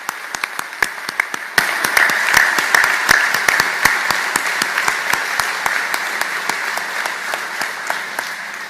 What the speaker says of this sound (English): Please, a round of applause for the Paparo family.